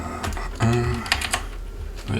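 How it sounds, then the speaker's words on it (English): Clicky mechanical keyboard on an MNT Reform laptop being typed on, a run of sharp close keystroke clicks at irregular rhythm with a low hum beneath and faint background sound. "I have to hear my clicky keyboard,"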